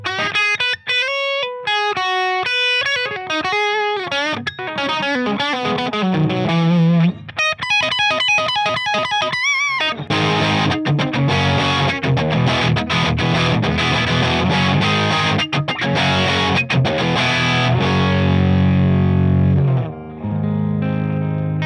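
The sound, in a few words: electric guitar played through a Marshall 1987x amplifier with gain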